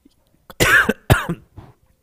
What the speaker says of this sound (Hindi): मुझे खांसी उठ गई